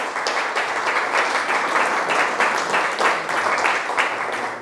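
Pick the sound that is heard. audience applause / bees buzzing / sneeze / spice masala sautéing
audience applause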